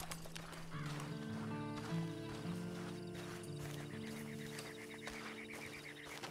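Horse hoofbeats from riding in Red Dead Redemption 2, a clip-clop rhythm with a whinny and other animal sounds, under a musical score with some faint voices.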